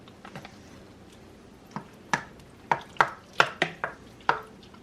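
A spoon knocks against a slow cooker as diced ham is stirred into bean soup, giving a series of sharp, close taps and clinks, sparse at first and then quicker, with no talking.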